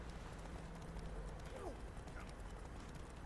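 Geralt's horse Roach trots in The Witcher 3, a soft steady clip-clop of hooves under faint background ambience at low volume.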